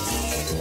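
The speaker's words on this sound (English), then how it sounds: "Mosquito wings make a buzzing sound." Cartoon mosquito wings buzzing, a dense, steady whine close up and fairly loud, heard alone for a brief moment.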